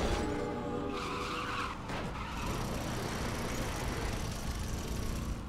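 A Lego Dimensions video game car engine roars steadily while tires skid and squeal, a continuous loud rush of motor and screeching rubber.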